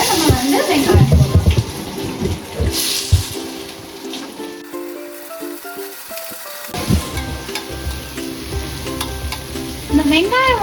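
Onions frying in hot oil for chicken biryani give off a steady sizzle with stirring. A voice is heard briefly at the start and end, and music briefly takes over in the middle.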